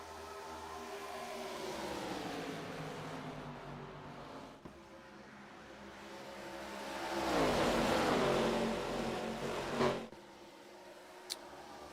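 ARCA Series stock cars race around the track, engines droning steadily and swelling loudly as a pack passes close by, then fading back into a distant roar.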